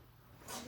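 A single sneeze in a lecture room during a maths class: one short, fairly faint burst rising out of quiet room hum.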